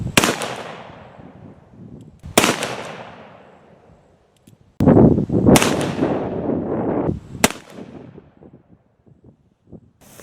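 Five loud, sharp reports from an Armi San Marcos 1851 Navy .36 Sheriff revolver, fired at uneven intervals, each followed by a long, echoing decay.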